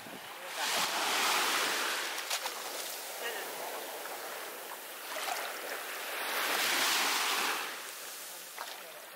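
Ocean waves roll onto a beach at Pulau Nanas in East Bolaang Mongondow, a soft wash of surf swelling and fading twice, faint and distant with wind rumbling on the microphone.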